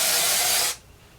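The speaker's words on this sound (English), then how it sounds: "Try not to spray myself in the face." Hairspray blasts onto hair at home for about three quarters of a second, a loud, close, steady aerosol hiss that cuts off abruptly into quiet.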